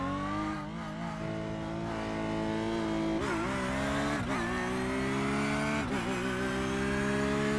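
A Porsche 911 GT3 R races around Monza in the iRacing simulator, its engine note climbing steadily through the revs with sharp dips at each upshift, loud and constant throughout.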